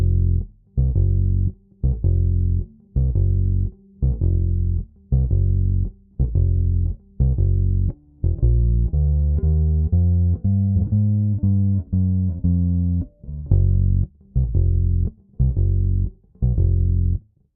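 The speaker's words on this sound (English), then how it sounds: "I wanted to have more of like an upright bass sound." Electric Jazz Bass played through the neck pickup with the tone rolled fully down, giving a dark, round upright-like tone: a steady run of plucked low notes with a busier melodic passage midway, loud and alone.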